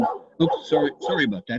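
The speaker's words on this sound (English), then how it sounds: "Shh, that's my dog." A pet dog barks and yips several times in short bursts close by, mixed with a person talking over and between the barks.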